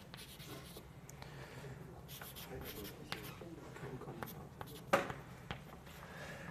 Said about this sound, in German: Ich zeichne mir die Schaltung so ein bisschen um.